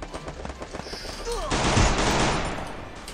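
Gunfire in the mobile battle-royale game Free Fire Max erupts halfway through as a loud, rapid volley of automatic shots, after a quieter stretch with a voice talking.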